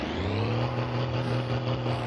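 A car in the driving game My Summer Car, with a steady engine drone and low rumble at constant, moderate loudness over two seconds, no speech.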